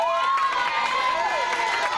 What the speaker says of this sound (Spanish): Un aplauso para ustedes que lo conseguimos, ¿eh?